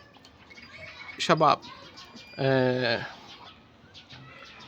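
English lovebirds give short, faint chirps and squawks, with someone talking over them in a louder burst.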